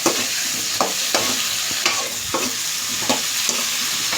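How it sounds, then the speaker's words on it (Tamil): Eggplant pieces sautéing in oil in a pan, with a steady bright sizzle and regular scraping strokes of a spatula stirring them, close and continuous with no voices. "கத்திரிக்காய் நல்லா எண்ணெயிலேயே வதங்கணும்."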